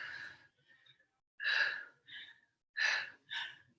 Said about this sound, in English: I don't know if you can hear me breathing.